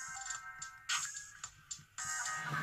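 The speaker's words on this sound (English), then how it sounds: "it gives you a little indicator letting you know it's at full volume" Short electronic beeping tones from KINGYOU HD-007 headphones signal full volume, a few chirps in a row against a faint hum, close and clear with no talk.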